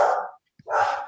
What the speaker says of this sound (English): sorry for my dog going crazy